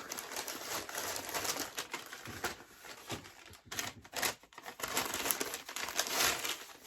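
Close crinkling and rustling of a small seed packet, irregular handling noises with bursts of crackle and brief pauses.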